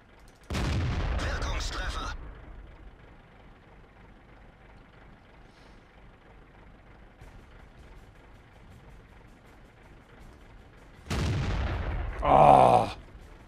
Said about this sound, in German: So ein fehlgeleiteter Schuss.